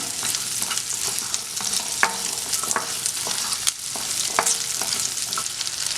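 Onions sauté and sizzle in a pan for a ladies finger (okra) fry while a spoon stirs them, giving a steady crackling hiss with scattered scraping stirs close by and no talking.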